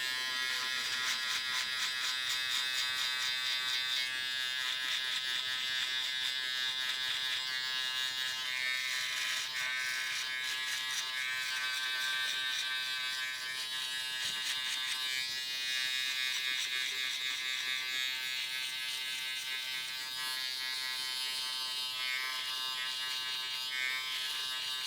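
Electric hair clipper angled against the head while cutting a mid drop fade, a steady close buzz running without a break and without talk.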